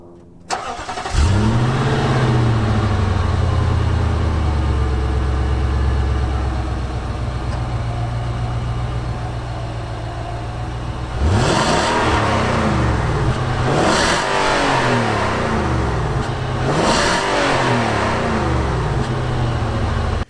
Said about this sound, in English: So you can rev this thing all the way to redline pretty much whenever you want.